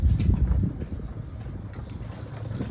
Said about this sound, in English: Half scale Waterloo engine.